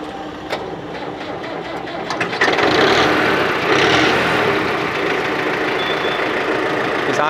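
A 57 HP Mahindra Arjun Novo Ultra tractor engine starts and runs, its diesel rumble rising then settling into a loud, steady close idle with no talking.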